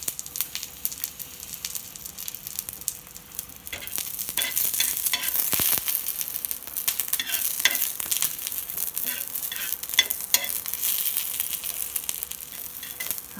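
Green chillies pressed flat in a pan fry in a little oil beside garlic for a drumstick rassa curry. The sizzle is quiet at first, then swells into a dense, crackling hiss with scattered pops, close and without talk.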